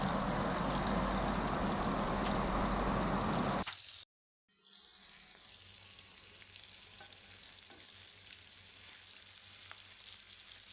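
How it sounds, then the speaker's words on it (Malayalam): Chicken parts deep frying in hot oil, a loud dense sizzle that cuts off abruptly, followed after a brief silence by a quieter, steady frying hiss. "ചിക്കൻ്റെ പാർട്സ് അതിൽ ഓരോന്നായി ഇട്ട് കൊടുക്കാം എന്നിട്ട് നന്നായി ഫ്രൈ ചെയ്ത് വരുന്നത് വരെ വെയിറ്റ് ചെയ്യാം"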